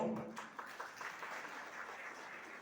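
An audience at a cheque distribution ceremony applauds, a soft, fairly distant patter of clapping hands that starts stronger and fades to a light sustained ripple.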